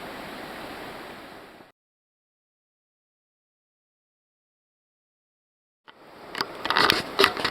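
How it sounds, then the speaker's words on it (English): Rushing river water in Linville Gorge as a hiker wades across, a steady broadband wash that cuts out to silence midway and returns with louder splashing and sloshing near the end. "Seth's crossing the river"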